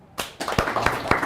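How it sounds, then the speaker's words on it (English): Clapping from a workshop audience at a smartphone film competition, starting abruptly and building into a few distinct claps over a thin spread of applause, close and brief. "Clap for me."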